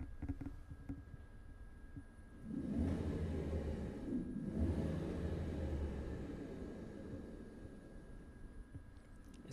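An electric vehicle drive motor is throttled up with a vibration issue, a low steady rumble with a faint droning hum that swells after a quiet start and holds, then slowly eases off.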